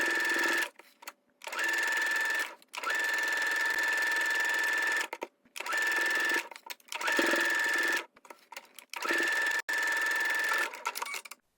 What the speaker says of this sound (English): Then we'll sew from one side, pivoting to sew across the top edge all the way to the opposite side with a 1/2 inch seam allowance.